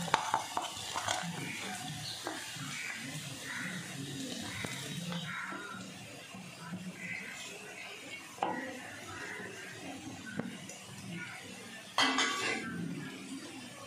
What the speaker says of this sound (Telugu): ఉల్లిపాయ టమాటాతో కూడా మిక్స్ చేస్తాను గ్రేవీ కోసం.